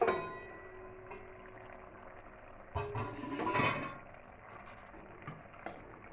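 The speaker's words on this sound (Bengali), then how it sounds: "এবার ঢাকাটা খুলে দেখি সেদ্ধ হলো কিনা।" A metal lid lifts off a pot of simmering small-fish sour curry with green chillies, giving a short clatter and scrape over a soft bubbling kitchen background, with a few light clinks afterward.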